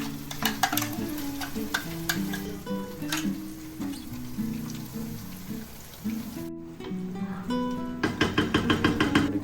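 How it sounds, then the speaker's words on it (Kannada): Masala with crab frying in ghee for a seafood roast gives a continuous sizzle and crackle with busy stirring and scraping clatter throughout, closing with a quick run of sharper utensil taps. "ಫ್ರೈ ಆಗ್ತಾ ಬಂತು ಮಸಾಲ ಗೀಯಲ್ಲಿ, ಫುಲ್ ಗೀ ರೋಸ್ಟ್."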